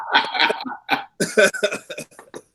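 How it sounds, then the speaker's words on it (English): A person coughs in a series of short, sharp bursts, close and clear, with brief gaps between them. "Now you're coughing again."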